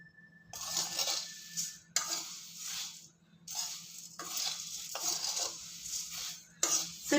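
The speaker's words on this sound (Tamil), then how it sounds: "சிம்மில் வச்சே வறுத்துக்கணும்" Dough for Karthigai appam roasts in a pan on a low flame, with repeated scraping stir strokes in uneven bursts and short pauses between. A light sizzle and occasional metallic clinks of the utensil come close by.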